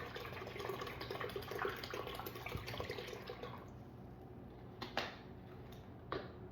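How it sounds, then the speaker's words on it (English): Bottled water poured into a jar of fermenting peppers for hot sauce, a steady close liquid pour that runs for several seconds, then thins out with a couple of brief splashes near the end. "So pour your water in."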